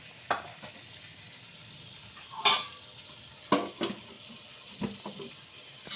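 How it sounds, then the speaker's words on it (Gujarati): Chevda with turmeric cooking in hot oil in a home kitchen, a faint sizzle under several sharp stirring scrapes and clinks of a spoon against the pan. "હળદર નાખીને આને સરસ રીતે ચેવડો થોડોક તેલમાં થવા દેવાનો છે"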